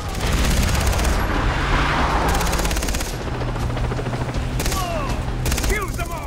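Far Cry 3 video game gunfire in rapid bursts, dense and loud, with a helicopter-like drone underneath.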